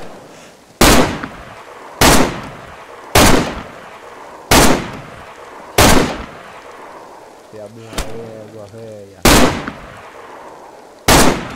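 Gunfire in the video game DayZ: seven loud, sharp single shots spaced about a second or more apart, each with a short decaying tail, and players talk between them.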